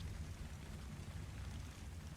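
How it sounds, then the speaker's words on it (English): Steady rain in the ARK: Survival Evolved video game, a dense, even hiss of falling water with a low rumbling bed, constant throughout with no voices. "Probably because it's raining."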